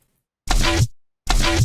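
A raw bass sample with no effects chain strikes twice, each hit a loud, deep, dry thump with a short tail, separated by a brief silence.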